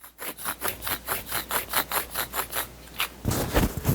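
The rough lock of a Bear Grylls survival knife makes a rhythmic grinding rasp that repeats about a dozen times in quick succession, close up, like metal scraping against metal, then a burst of louder noise.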